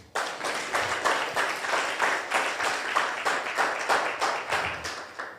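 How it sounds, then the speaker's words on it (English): A small audience at a marketers' meetup claps in a rhythmic, unison beat, about three claps a second, steady and moderately close, with no talking over it. "Another round of applause."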